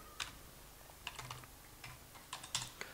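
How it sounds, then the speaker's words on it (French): A password is typed on a computer keyboard as a few quiet, uneven bursts of light key clicks, heard close and alone. "c'est de taper à chaque fois des mots de passe"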